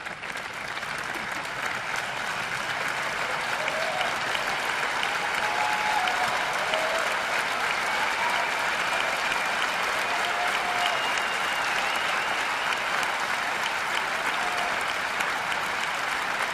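A large audience at an Apple special event in September 2015 gives sustained, loud applause, a dense continuous wash of clapping that holds steady throughout with a faint crowd murmur beneath.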